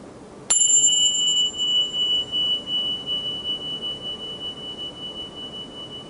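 A single meditation bell struck once during a guided calming session in Jeju, giving a clear high ringing tone that sustains and slowly fades over a soft steady background, with no one talking.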